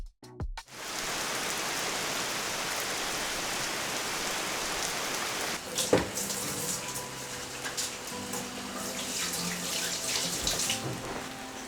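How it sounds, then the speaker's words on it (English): Rain falls outside in a constant broadband wash throughout; partway through, a few knocks and clatters from indoors sound over the steady patter. "It's raining outside."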